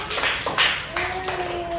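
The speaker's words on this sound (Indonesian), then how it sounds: "sekarang kita tepuk tangan dulu buat yang sudah jawab" Fifth-grade pupils in a primary school classroom give a few scattered, uneven claps for classmates who answered, while a voice talks over them.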